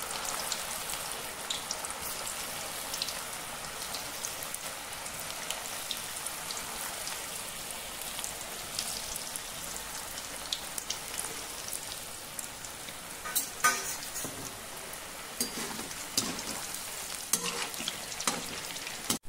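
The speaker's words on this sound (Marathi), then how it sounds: "असे आपले गोळे चांगले खरपूस होईपर्यंत, लालसर होईपर्यंत तळून घ्यायचे आहेत" Vegetable Manchurian balls deep frying in hot oil in a kadhai, a steady dense sizzle and crackle with occasional louder bursts, close and continuous with no talking.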